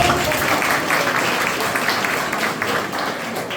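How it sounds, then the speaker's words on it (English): An audience at a school open house claps for a volunteer assistant psychologist, a dense, steady round of applause lasting a few seconds with no talk over it. "Can you clap for her?"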